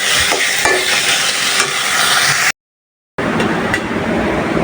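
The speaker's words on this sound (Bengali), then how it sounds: "তেলের মধ্যে কিছুক্ষণ ভেজে নিব দশ মিনিটের মতো" Food frying in oil, a loud steady sizzle with light stirring clicks, cut by a short stretch of silence before the sizzle resumes.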